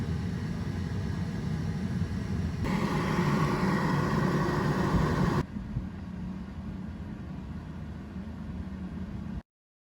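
A Tesla Model 3 preconditions its cabin and battery before a trip, giving a steady broadband whoosh of fans and heating that swells louder mid-way, then drops to a quieter hum before cutting off abruptly.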